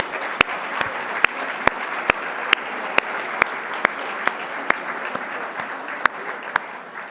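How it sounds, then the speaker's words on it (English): Steady applause from a gala audience for the staff of the Four Seasons hotel at the Lincoln Leadership Prize event, a dense, even wash of clapping with sharp isolated claps standing out at regular intervals, sustained throughout. "a round of applause for the fabulous staff of the Four Seasons"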